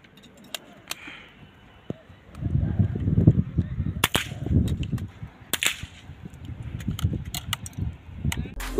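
.22 rifles fire at a school shooting range, a series of sharp, separate cracks spaced irregularly, some near and some farther off, over a rumbling, muffled background.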